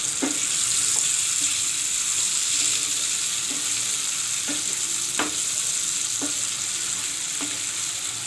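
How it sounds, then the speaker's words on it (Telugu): Toor dal chutney is mixed in a mixer bowl, with repeated scraping and clicking strokes at a steady rhythm over a constant hissing background, close and moderately loud. "ఇలా మిక్సీ గిన్నెలో పచ్చడి అంతా దీంట్లో వేసుకొని దీన్ని బాగా కలిపుకుందాం."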